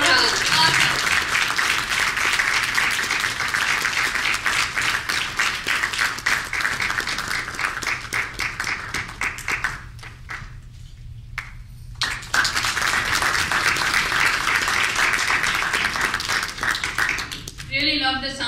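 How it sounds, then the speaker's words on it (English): Audience applause at a live event, a dense, loud clapping crowd that cuts off briefly, then swells again and continues strongly to the end. "Really love the sound of applause."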